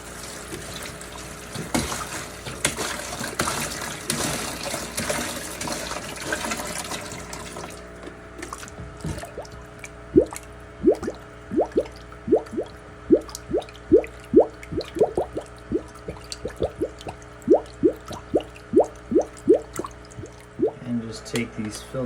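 Water pours into a plastic tote from a gallon jug, first as a steady rushing fill, then breaking into a run of close, loud splashing glugs and drips as the jug empties, with no talk over it.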